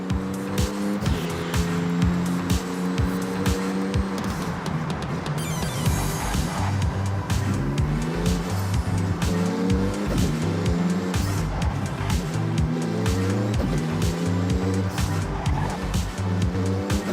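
A Porsche in the Forza Horizon racing game roars through a speed zone, its engine rising and falling through repeated gear shifts with bursts of tire squeal, loud and continuous, without speech.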